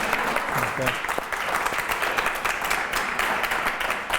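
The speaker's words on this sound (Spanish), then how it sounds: "ahora sí, un fuerte aplauso" Loud, full audience applause at the close of a talk on ecosystem services recovery in productive landscapes, continuous throughout with some faint voices mixed in.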